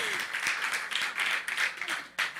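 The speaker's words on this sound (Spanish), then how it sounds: "Denle un aplauso al Eterno" Congregation clapping at a live Bereshit service, a short burst of uneven hand claps in a few pulsing waves, moderately loud with no talk over it.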